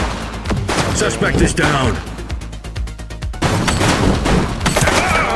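Gunfire in the Precinct video game, with dense bursts of shots and rapid machine-gun-like rattles running through a busy street scene, loud and close, while a voice speaks over the action.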